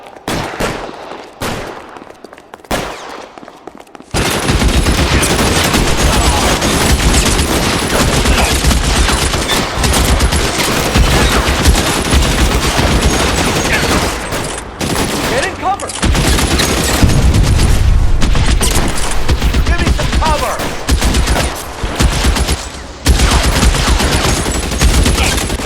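Sustained heavy gunfire from a shootout in L.A. Noire, with dense overlapping bursts and shots that run nearly nonstop after a quieter opening, loud and close, with voices calling out now and then.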